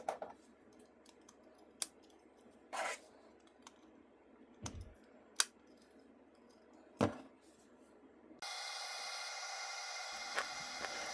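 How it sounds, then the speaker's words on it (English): Small plastic facade pieces of a 1:650 scale Taipei 101 skyscraper model snap together in a few sharp, isolated clicks over quiet background, followed by a steady hiss of room noise. "it was honestly really satisfying to click them all together at"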